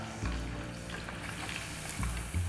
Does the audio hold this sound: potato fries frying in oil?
yes